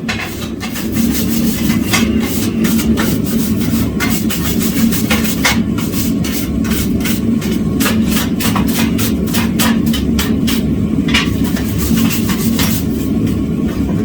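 Steel scale being scraped aggressively off cold rolled parent material at a forge during forge welding: a rapid, irregular series of sharp scratchy strokes over a steady low hum, close and loud.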